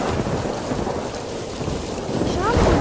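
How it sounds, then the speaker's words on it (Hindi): Heavy rain pours steadily while deep thunder rumbles throughout, loud and close. "शाम होते होते बारिश तेज हो चुकी थी।"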